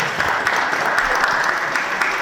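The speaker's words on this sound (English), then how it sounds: "Give a round of applause to Sherry." An indoor audience at a community event applauds a guest with steady, dense clapping that stays loud and even from start to finish, with no voices heard over it.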